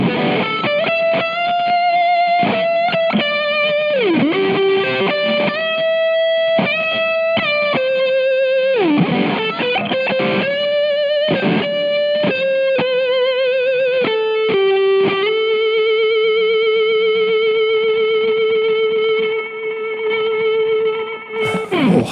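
An Epiphone Les Paul Custom limited edition electric guitar on the rhythm pickup plays a distorted melodic line, with sustained bending notes and slides ringing loud and close before a long held note.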